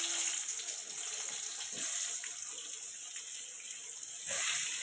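Brinjal slices frying in hot oil give off a steady, dense sizzling hiss that stays close and even throughout, with no talking.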